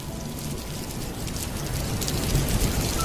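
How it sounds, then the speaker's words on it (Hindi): Heavy rain pours steadily in a dense broadband hiss, with low rumbling thunder swelling underneath and growing louder toward the end; no voices. "इतनी तेज बारिश हो रही है"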